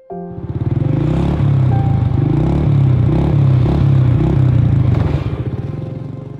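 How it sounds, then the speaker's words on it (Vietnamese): A motorbike engine is ridden close and loud. It starts abruptly and holds a steady, throbbing drone with rhythmic pulses for several seconds, then eases slightly at the end, with no voices. "Khải chạy xe máy từ xế xế cho đến tối thì mới về tới nhà."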